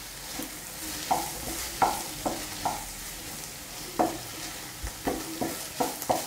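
Vegetables with salt and chili powder are stirred in a frying pan, a spoon scraping and clacking against the metal in irregular strokes over a soft sizzle. The stirring is near and moderately loud, with no talk.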